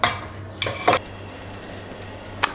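Boiled potatoes being gently mashed in a pot with a hand masher, giving a few separate soft metallic clinks and scrapes against the pot over a low steady hum, with no talking.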